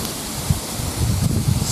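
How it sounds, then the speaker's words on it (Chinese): Strong, freezing wind blows outdoors by the water during a fishing session, a loud, steady roar with gusty buffets that rise toward the end. "刮风"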